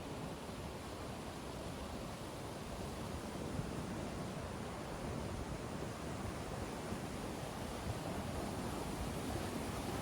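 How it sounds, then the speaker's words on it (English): Whitewater rapids and river waves roar in a steady, dense rush, loud and unbroken throughout with no voices. "There's several waves and rapids."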